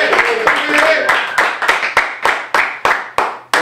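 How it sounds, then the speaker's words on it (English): Scattered clapping welcomes guests on a comedy show, a handful of sharp, regular claps at roughly half-second intervals, close and distinct, with voices mixed in early on. "Wild applause."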